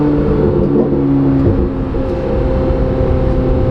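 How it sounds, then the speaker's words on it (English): Twin-turbo Corvette C8 Z06 under hard acceleration. A loud, steady engine roar with strong layered tones and a faint whine rising over it, close and continuous, with no talking. "Downshift a couple times, she gets rowdy. You start to hear turbo spoolings. Right there, I start to hear them spool."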